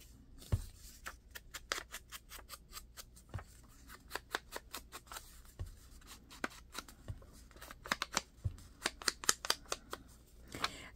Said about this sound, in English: This punch is nice and sharp.